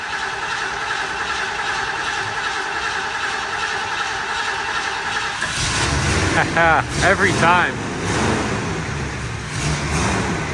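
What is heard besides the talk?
all-original crew cab truck engine starting up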